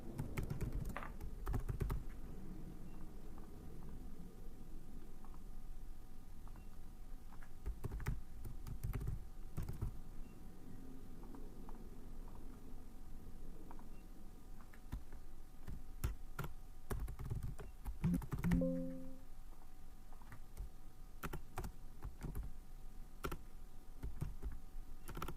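Typing on a computer keyboard while working in ArcGIS GIS software: a long run of close, irregular key clicks with brief pauses, over a faint steady hum.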